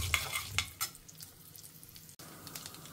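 Mustard seeds and chana dal crackle in hot oil, faint scattered pops early on over a soft continuous sizzle, with a brief dropout near the end before the quiet frying resumes.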